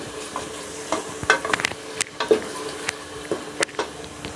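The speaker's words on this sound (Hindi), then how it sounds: "लहसुन को हम ज़्यादा नहीं फ्राई करेंगे, बस हल्का से फ्राई करना।" Garlic sizzles in hot oil with a soft, steady crackle, broken up by scraping stirs and light clicks of a spoon against the pan, lightly fried for achari chana and masoor dal.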